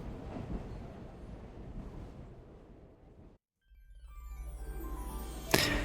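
A train in the video game Eternum rolls along with a dense rumbling clatter. It cuts to a moment of silence, then comes back as a deep arriving rumble that ends in a sharp hissing squeal at the station.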